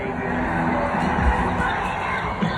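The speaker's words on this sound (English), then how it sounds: "I do hear them cheering." A crowd at an outdoor festival cheering toward a concert stage before a rap set, heard as a distant, continuous wash of cheers and shouts at moderate level, with faint nearby voices mixed in.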